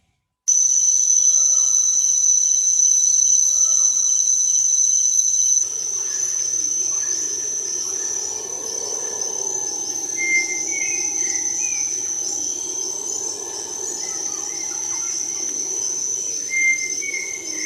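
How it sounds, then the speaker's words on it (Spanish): A recorded jungle soundscape plays: a shrill, constant insect drone of crickets and cicadas with scattered bird calls over a low rumbling layer that may be howler monkeys, steady and fairly loud throughout. "Monos, hay monos aulladores, aves, aves, Pajaritos, pajaritos de distinto tipo, grillos también como insectos, bichitos, bichos de todo tipo, chiquitos, chicharras."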